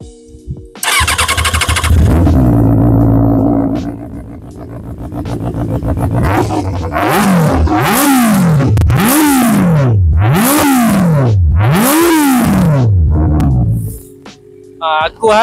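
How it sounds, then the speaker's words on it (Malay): A QJMOTOR 600RC inline-four motorcycle starts and idles loudly, then is revved in four sharp, evenly spaced blips that rise and fall before it settles and shuts off, recorded close with a brief voice at the end. "So mesti korang tertanya-tanya kan macam mana bunyi engine 4 inline ni."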